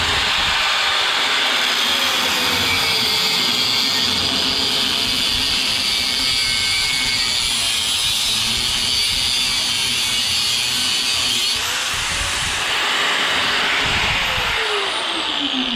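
Power cutting into an air-conditioning compressor's metal casing makes a steady, loud, harsh whine and grinding roar that runs continuously and close, shifting pitch slightly partway through, with no voices.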